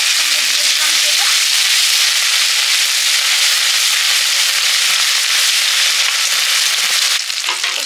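A ground spice paste of cumin, coriander, dried chilli, onion and turmeric hits hot oil, giving a loud, dense, continuous sizzle and crackle that holds steady from start to finish with no talking.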